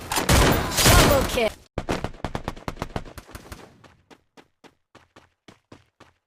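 Bursts of gunfire in the Free Fire video game: a dense rapid volley first, then spaced single shots in a steady rhythm, growing fainter and sparser toward the end.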